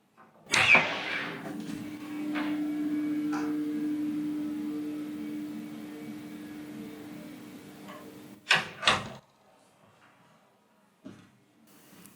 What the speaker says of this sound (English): I'll do a quick demonstration by opening and closing the solid studio door so you can hear the difference for yourself.